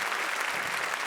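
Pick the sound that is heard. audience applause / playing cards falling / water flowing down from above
audience applause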